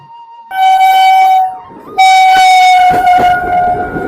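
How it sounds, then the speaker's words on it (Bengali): A train at a railway level crossing sounds two long, loud horn blasts, the second joined by a rising rumble and clatter of the train passing. "এখন হচ্ছে রেলগেটটা নামানো হয়েছে কারণ হচ্ছে এখন ট্রেন আসবে"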